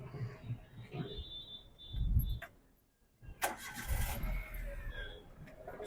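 A Maruti Alto 800 LXi petrol car with about 6,000 km on it is cranked and its small engine catches, settling into a steady idle close by after a brief quiet pause.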